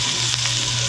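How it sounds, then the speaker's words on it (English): Steady, close sizzling hiss of bacon-wrapped stuffed quail frying in a hot pan, with a faint low hum underneath and no talking. "Sizzling. The heat is staying in."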